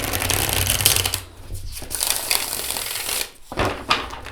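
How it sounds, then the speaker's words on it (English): A tarot card deck is shuffled by hand in quick riffling bursts, with crisp flapping card noise separated by two brief pauses, close and fairly loud. "So let me show you how it shuffles."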